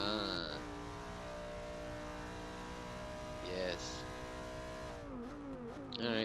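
An engine in an Xbox One racing game hums and whines steadily, with rising and falling pitch as it revs and shifts gears. It is moderately loud and continuous, with brief swells where the engine surges.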